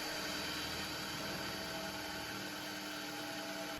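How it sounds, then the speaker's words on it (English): A continuous, steady whirring drill grinds a hole into the bottom of a wooden door, close and even-toned, with no pauses over a few seconds. "I'm drilling a hole into the bottom of the door for this pin to fit into later."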